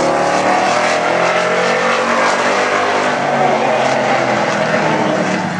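A 1978 Camaro street stock race car, number 27, laps South Sound Speedway during qualifying, its engine a loud, steady roar held close throughout with no break.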